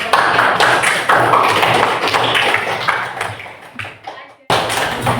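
Classroom audience clapping for a group after its presentation, a burst of dense hand claps that thins and fades out, then briefly resumes, with scattered voices mixed in.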